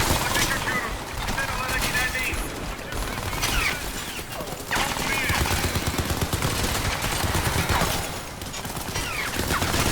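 Sustained gunfire from the Crysis 3 shooter game in a jungle setting, dense bursts of shots rolling continuously for ten seconds at a steady loud level, with a voice talking underneath.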